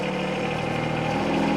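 A Kubota diesel engine idling on a Wolfe Ridge 35 SHO box wedge log splitter, with a steady, close, even rumble that holds for the full stretch with no talk.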